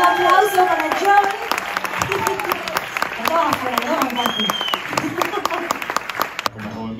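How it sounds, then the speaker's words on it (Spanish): A live audience applauds for John at a stage performance, a dense, steady wash of clapping with some cheering that holds for several seconds before tapering off abruptly at the end. "un aplauso para John"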